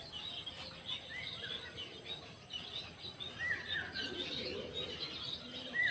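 Pigeons let loose from a lit loft in the morning fill the air with steady chirps and calls over a continuous outdoor background, with faint wing flutters mixed in and no talking.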